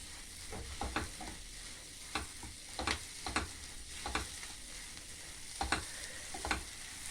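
Green peas being dry-roasted in a pan while preparing matar kachori, a continuous sizzle and rattle broken by repeated scraping stirs with a spoon, close and clear, with no talking.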